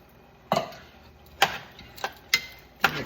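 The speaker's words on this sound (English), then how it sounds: "Mix that up." Chili ingredients with added corn being stirred in a pot, a few separate sharp scraping knocks of a utensil against the pot spaced about a second apart, close and fairly quiet.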